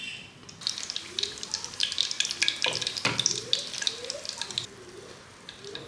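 Chicken pieces fry in oil in a nonstick pan, giving a close, uneven sizzle with splattering crackles, while a voice talks quietly underneath throughout.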